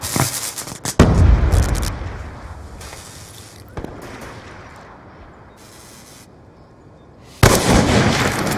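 A sticky grenade blasts in a Call of Duty Black Ops 2 Search and Destroy multiplayer match, amid loud close explosions and bursts of gunfire that start abruptly and fade, followed later by another sharp loud burst.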